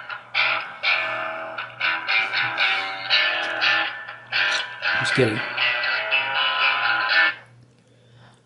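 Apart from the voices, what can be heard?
startup music from a video played on a phone speaker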